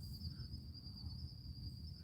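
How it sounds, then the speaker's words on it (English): Crickets chirp outdoors at night on a fenced one-acre residential property surrounded by houses, a steady high continuous trill with no pauses over a low background hum. "The crickets are definitely alive."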